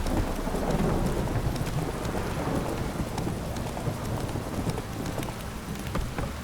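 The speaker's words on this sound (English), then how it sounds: "This downpour's a bastard, it is." Heavy, steady downpour of rain in the video game The Witcher 3: Wild Hunt, drumming continuously, with a low rumble underneath.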